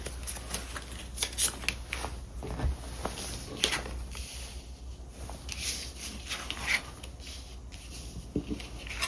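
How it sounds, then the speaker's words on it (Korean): Tarot cards drawn and shuffled from a deck, giving soft papery slides and light flicks that repeat irregularly at close range with no talking. "네, 조언 카드 뽑겠습니다."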